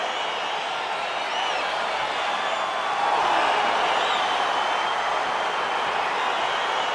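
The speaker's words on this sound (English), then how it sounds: "crowd getting excited as this fight gets underway" Steady crowd roar fills an octagon arena in the UFC 4 fighting game, a dense, continuous wash of cheering that swells slightly partway through and stays loud without pause.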